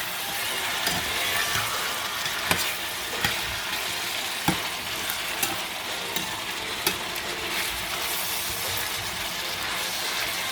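Coconut fried rice ingredients and green beans stir-fry in a pan with a steady, close sizzle, broken by occasional sharp clicks and scrapes of a spatula.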